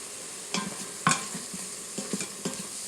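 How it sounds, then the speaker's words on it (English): Onions and spices saute in an Instant Pot, a soft continuous sizzle broken by several sharp scrapes and clacks of a utensil stirring against the pot, close and fairly quiet. "So this has now been sauteing for about 5 minutes."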